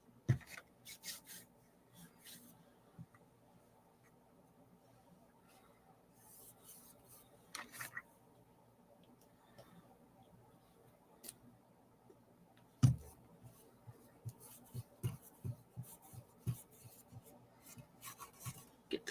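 Painted wood furniture being distressed by hand rubbing, with soft, intermittent scraping strokes and scattered light knocks, plus one sharper thud partway through, all fairly quiet with no talking.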